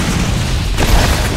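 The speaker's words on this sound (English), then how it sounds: "Something flew there. That's a grenade." A grenade detonates in the video game Borderlands with a loud, deep boom that lands partway through, rising out of a rumbling background and rolling on as a low, sustained blast.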